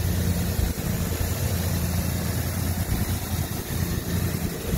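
A clean 4.0 liter V6 in a 1998 Ford Ranger Supercab 4x4 idles steadily with a low, even rumble and constant hiss, close and alone without talk.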